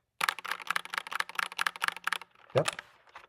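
Fast, steady clacking from a Royal Kludge RK87 compact mechanical keyboard being typed on up close. A brief thump follows, then a few last keystrokes.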